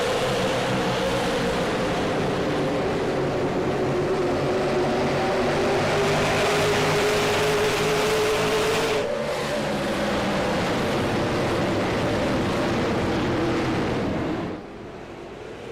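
A pack of race cars roars around the Myrtle Beach short track at the green flag of a Mystery Night super series race, engines droning loudly and steadily with pitch sweeps as cars pass, fading slightly at the end.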